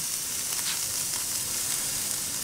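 Pork chops sizzle steadily on a hot grill, a dense continuous crackle with no voices.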